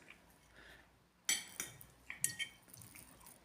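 A fork slices through a cake on a plate, with a few sharp metallic clinks and scrapes against the dish amid quiet room tone.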